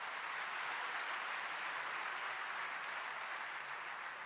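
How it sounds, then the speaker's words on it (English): Faint, distant applause, a steady wash of many hands clapping that fills the whole stretch without a break. "Give yourself an applause."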